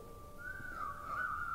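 A single human whistle rises and wavers in pitch for about a second, mimicking Santa calling his reindeer during a recitation of a Christmas poem, soft and close.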